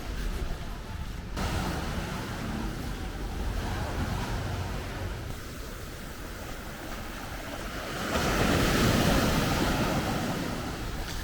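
Wind-driven surf rolls onto the beach at Mui Ne, Vietnam, in rough windy weather, a steady broadband wash with gusty wind noise that swells louder near the end, with no voices.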